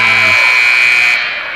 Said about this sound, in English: Courtney Wilson puts one in at the buzzer